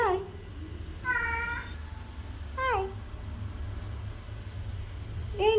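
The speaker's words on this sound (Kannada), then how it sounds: "ಬೆಕ್ಕು ನೋಡಿ ಬೇಗ ಬಂದಿದೆ ಇವತ್ತು." A cat meows four times outdoors, with short, clear, rising-and-falling cries spaced a second or two apart over a low steady background rumble.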